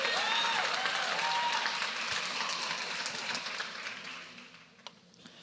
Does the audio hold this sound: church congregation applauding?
yes